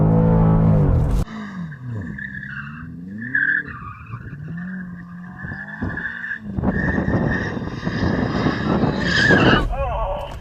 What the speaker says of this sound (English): You warm up your tyres